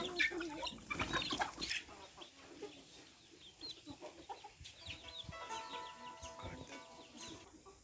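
Chickens and roosters on an organic farm cluck and call as they climb into a tree to roost. Busy, close clucking rises at first, then sustained crowing-like calls and chatter follow, with no one talking.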